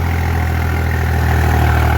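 A New Holland 3630 TX Plus 4x4 tractor engine runs at a steady idle, a loud, close diesel rumble with a constant throbbing low drone throughout and no talking.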